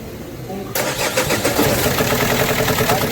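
Renault Master minibus engine cranking and catching, then running loud and rough with a rapid, steady pulsing idle, close by, after a brief quiet lead-in with faint talk.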